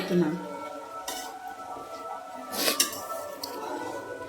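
A spoon stirs boti fry in a pan, giving soft scraping with a few sharp metallic clinks and taps spread across the clip over a faint background hiss.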